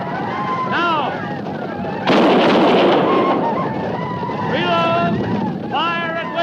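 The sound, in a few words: gunfire sound effect in old-time radio drama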